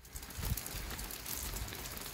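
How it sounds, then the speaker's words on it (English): Steady rain falls outdoors during a Yamaha Grizzly ATV suspension and differential repair, a dense, constant wash of drops with a few low thumps, continuous and even throughout with no talking. "Yeah, the rain hasn't slowed down at all."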